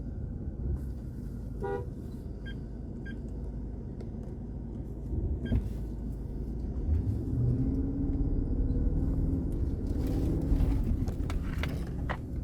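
A Nissan Patrol rumbles over a desert sand dune, its engine droning steadily at a low, muffled level from inside the cabin, with a few short horn-like toots early on and rising engine tone toward the end.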